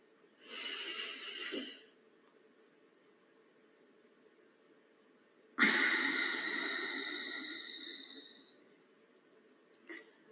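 A slow, deep breath in and a long breath out during a guided meditation, each exhalation a soft airy rush heard close and alone, separated by quiet pauses.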